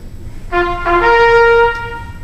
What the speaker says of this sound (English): here's the typical sound of a trumpet